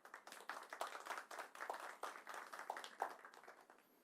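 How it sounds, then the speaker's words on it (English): An audience at a Micromax mobile phone launch event claps in a faint, somewhat scattered round, individual hand claps overlapping in an uneven rhythm for several seconds. "At least we deserve some claps."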